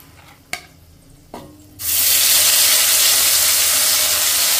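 Onion paste dropped into hot mustard oil already tempered with bay leaf and dried red chilli: two small clicks, then a sudden loud, steady sizzle that roars on without pause.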